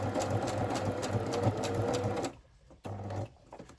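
A sewing machine stitches through paper scraps for a junk journal in a quick, close burst of whirring. It stops, then gives a short second run.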